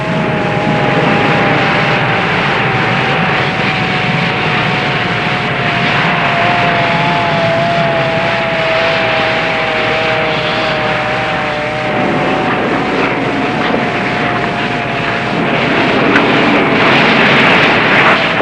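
A helicopter flies over a pier fire, a loud continuous engine and rotor drone with a steady tonal whine that holds for the whole stretch, and no voices.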